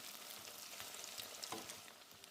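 Squid-filled bread rolls deep fry in hot oil with a faint, steady crackling sizzle and occasional soft pops. No one speaks.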